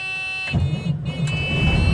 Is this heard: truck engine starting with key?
yes